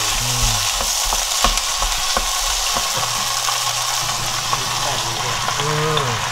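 Soy sauce poured into a pan of fish cake and shishito peppers being stir-fried, the steady loud sizzle of frying running throughout with stirring clatter and brief louder bursts, a voice speaking now and then over it.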